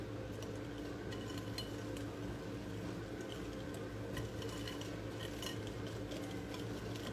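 Strawberry pancake batter is mixed in a bowl, a continuous soft rhythmic scraping and clinking of utensil against the dish, fairly quiet and steady throughout.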